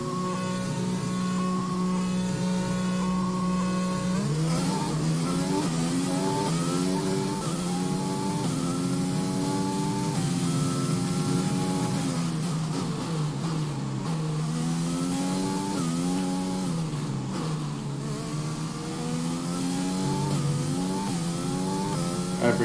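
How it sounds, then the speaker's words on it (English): Formula One race car engine lapping Silverstone in a racing video game, a loud continuous high-pitched whine that rises and falls through repeated gear shifts and revs, with no talking. "Let me know if the engine noise is too loud."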